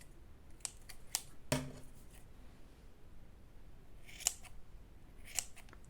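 Scissors snip through yarn while making a beginner's shawl, giving several short, crisp cuts spaced apart in a quiet room, one louder snip standing out among fainter ones.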